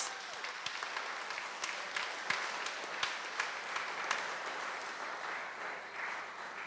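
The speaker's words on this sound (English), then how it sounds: "I want you to clap again for yourselves." A rally crowd at the DLP annual conference claps for itself, sustained, even applause with scattered louder claps, fairly distant and steady.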